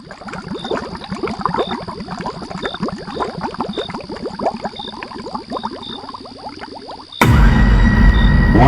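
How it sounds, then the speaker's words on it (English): Water gurgles and bubbles continuously in dense, close, irregular glugs, with a faint steady tone ringing beneath, before giving way to a loud broad rushing noise near the end. "the silence broken only by an unsettling gurgling sound that seemed to emanate from the depths"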